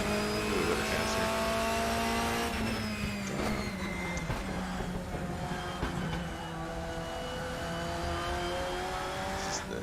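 A BMW race car laps the Brno circuit in a racing game, with a steady engine drone whose pitch climbs and falls through gear changes as it corners and accelerates, close and continuous with no talk.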